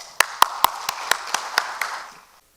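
A church congregation welcoming a missionary with scattered, uneven claps, several sharp distinct hits at first that thin out and fade to silence within about two seconds, moderately close.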